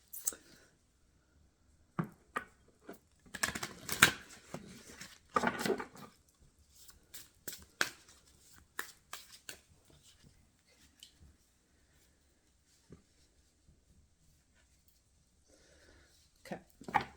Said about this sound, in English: let's just start shuffling and see what cards come